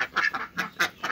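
Five backyard ducks on a small village farm call out in the morning with about five nasal quacks, loud and near, spaced unevenly and heard alone.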